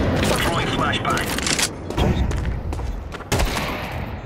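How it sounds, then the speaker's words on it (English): Counter-Strike 2 match with a flashbang grenade going off amid loud gunfire bursts, sharp cracks and booms, some overlapping. "Throwing flashbang."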